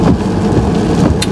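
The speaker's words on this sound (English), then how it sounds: "right now it's raining" Rain falls outdoors as a loud, dense, continuous hiss and patter with a low rumble underneath, and no voices.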